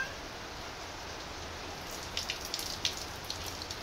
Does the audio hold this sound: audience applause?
no